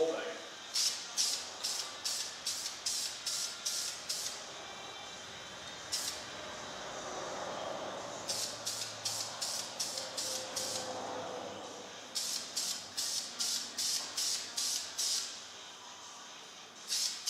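A spray paint can puts light camouflage coats onto an object in quick, even hissing pulses. The close, steady bursts come in rhythmic runs of several sprays, with a few longer pauses and a single isolated burst between them.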